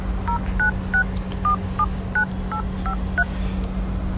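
A phone dials a number with a quick run of about ten short keypad tones at an even pace over a steady electrical hum.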